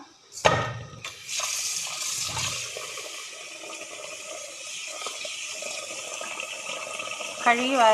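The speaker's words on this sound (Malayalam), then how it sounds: "നമുക്കിത് വെള്ളമൊഴിച്ച് കുതിർക്കാനിടാം" Water pours over a kilo of rice set to soak for ghee rice, a steady rushing wash that starts after an early clatter and holds at moderate level to the end, with no talking.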